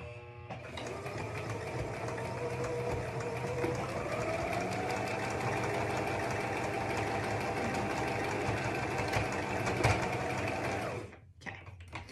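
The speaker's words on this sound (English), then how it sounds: "cut the threads, turn, sew down the other side" A sewing machine stitches down the side of a child's hat, its motor running in a steady, close, continuous whir for about eleven seconds before stopping abruptly.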